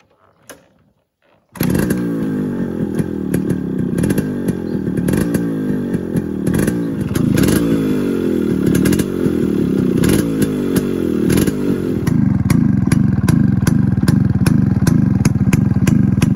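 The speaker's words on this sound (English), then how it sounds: "the 2-stroke exhaust note sound is like a music in the ears" A Yamaha RX 135 two-stroke motorcycle engine kicks into life and idles with a rapid, raspy, popping exhaust, revving up louder several times, close by.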